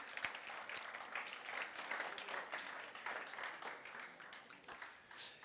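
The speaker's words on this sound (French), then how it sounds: "Vous pouvez l'applaudir, vous pouvez l'applaudir," Audience at a French-speaking church gathering applauding, a dense continuous patter of many hands, fairly faint and distant, holding steady for several seconds.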